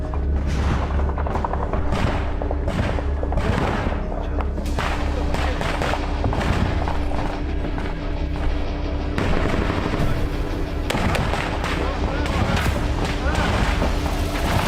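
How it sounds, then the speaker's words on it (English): During combat at Bakhmut, artillery and gunfire go off almost without pause: dense volleys of sharp cracks and heavier booms pound loudly over a constant rumble, with voices mixed in. "The artillery began working intensively."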